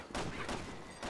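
Gunfire from the co-op zombie shooter Resident Evil 6, several loud broadband bursts spaced about half a second apart, with no voices over them.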